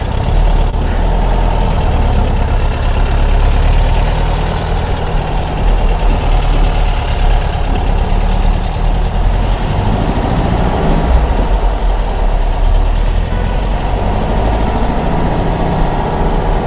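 A restored 1961 VW Beetle convertible engine runs steadily close up, a loud, continuous low rumble with no talking.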